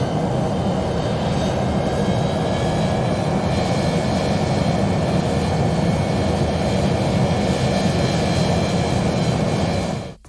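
A passenger airplane taking off, its steady jet engine roar filling the whole stretch at a constant loud level with a high whine above, cutting off abruptly at the end.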